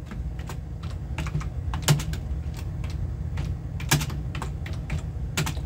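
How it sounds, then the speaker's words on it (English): Computer keyboard typing at a slow, uneven pace while tags are edited for ripped CDs in Windows Media Player, close and clear with irregular key clicks over a steady low hum. "And I type slow."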